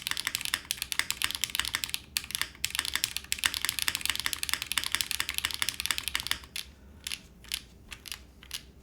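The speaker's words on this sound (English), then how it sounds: "This is a super soft typing experience" Continuous rapid clacking of soft-sounding typing on a custom mechanical keyboard with stabilizers, close and steady for most of the stretch, then thinning to a few isolated keystrokes near the end.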